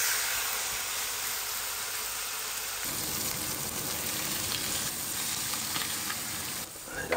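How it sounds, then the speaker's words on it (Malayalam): Steak frying in a pan, a dense continuous sizzle and crackle that fills the whole stretch, close and steady, with a brief change near the end and no talking. "രാവിലെ തന്നെ സ്റ്റേക്ക് അടിക്കാനുള്ള പരിപാടി."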